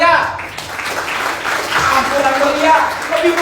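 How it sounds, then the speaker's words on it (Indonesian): Church congregation breaking into lively applause in worship, dense clapping filling the room while voices and cheers rise over it. "Tepuk tangan yang meriah."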